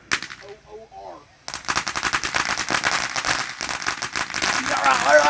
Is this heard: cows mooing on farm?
no